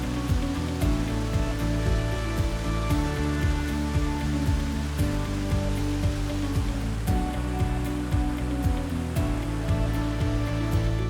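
A waterfall in the Pocono Mountains rushes in a steady, dense wash of falling water, close and unbroken, with scattered splashes and drips and no voices.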